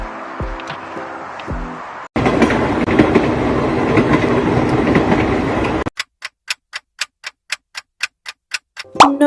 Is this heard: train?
yes